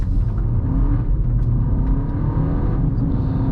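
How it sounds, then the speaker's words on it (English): A 2025 MINI Countryman John Cooper Works in core mode pulls away on the road, its engine giving a loud, steady drone with low rumble throughout, and no voices are heard. "let's head off here in core mode and see how this John Cooper Works Countryman is out on the roads"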